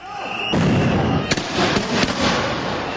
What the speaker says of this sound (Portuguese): Manifestantes lançaram bombas e rojões contra os policiais